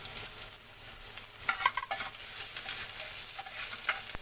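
Chopped onion dropped into hot oil in a pan while cooking jackfruit-seed curry, a steady hissing sizzle with a few sharper crackles and stirring scrapes in the middle, close and fairly loud.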